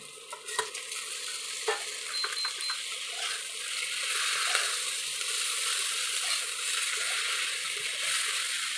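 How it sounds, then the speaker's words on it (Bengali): Katla fish head frying in a pan with ginger and green chili paste, an even hissing sizzle with a few sharp clatters and stirring noises early on, sustained and fairly close. "এখন আমি দিয়ে দেব মাছের মাথা"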